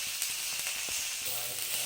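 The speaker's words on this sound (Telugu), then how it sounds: "అలాగే క్యాబేజీ, వీటిని కూడా కాస్త ఫ్రై అవ్వనివ్వాలి." Cabbage and chopped vegetables frying for veg noodles, a steady hissing sizzle with a few faint stirring taps and scrapes.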